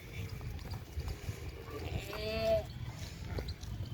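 A large male goat, about 58–60 kg, being driven to walk at a livestock sale, with a brief bleat-like call and scuffling movement over steady outdoor background noise.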